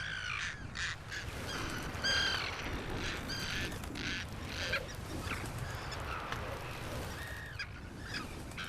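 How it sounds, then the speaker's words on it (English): Arctic terns call in a harsh, raucous chorus of repeated shrill cries, loud and close, layered over one another with no talking. "Arctic terns are prickly foes."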